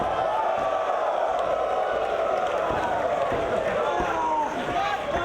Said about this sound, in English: The fans getting behind the figure four by the Great Muta.